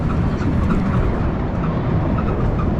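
A train rumbles loudly and continuously, a heavy low roar with rattling, as if heard from inside a moving carriage.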